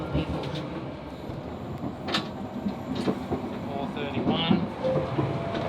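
A crowded train waiting area in Japan fills with a steady murmur of travelers talking, mixed with low rumbling and occasional clanks and sliding-door knocks, all close and continuous.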